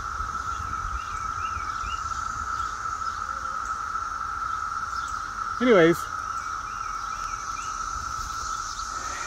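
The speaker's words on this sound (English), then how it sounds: "Gotta love the cicadas." Cicadas drone steadily outdoors in a continuous high buzzing chorus, with a brief louder rasping burst partway through and a short spoken word near the end.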